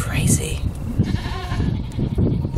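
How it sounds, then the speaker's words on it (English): Loud, raspy screams from a goat in labor ring out nearby in a couple of bursts, harsh and insistent. "none of my goats have ever screamed like that"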